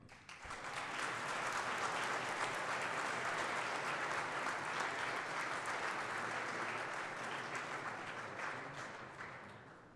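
An audience applauds to welcome a speaker at a military history program launch, clapping rising quickly, holding steady and full for several seconds, then gradually thinning toward the end.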